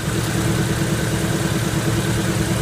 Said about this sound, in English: now that's that idle. Idle's a little bit high, I think.